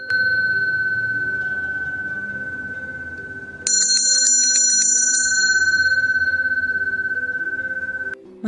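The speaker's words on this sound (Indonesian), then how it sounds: "Bel sekolah berbunyi nyaring." A school bell rings loudly: a steady electric tone carries on until a brighter, jangling ring joins it partway through, and both stop abruptly.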